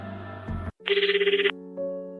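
A telephone rings as a call goes out, a loud, rapidly pulsing ring burst lasting under a second between steady tonal background sounds.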